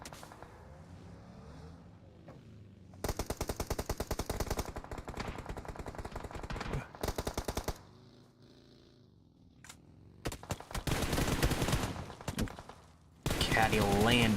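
Gunfire in a video game match: several loud bursts of rapid automatic fire separated by quieter gaps with faint background game noise, and a voice speaks quietly underneath at times.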